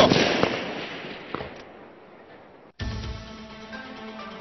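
Special forces snipers fire rifles at a 300 m range, with sharp loud cracks and decaying echoes at the start, a second shot around the middle, then a steady background hum after an abrupt cut.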